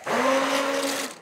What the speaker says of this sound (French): Maman qui te fait de la purée avec le mixeur.